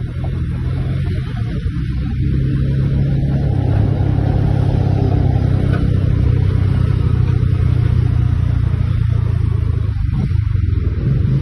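Heavy road traffic of cars heard from a motorbike, a loud continuous engine hum and low rumble with steady road noise and no clear pauses.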